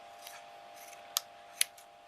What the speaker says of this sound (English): I just pop the scissors down and work my way around like that